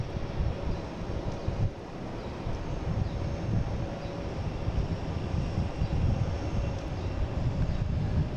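A Delta Embraer E175 regional jet arriving at Boston Logan gives a low, steady engine roar with gusty wind buffeting the microphone throughout, fairly constant in level with no voices.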